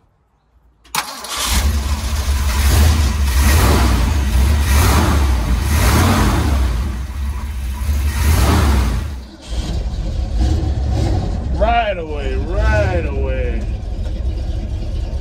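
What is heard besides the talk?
1974 Ford F250 Custom engine starting and running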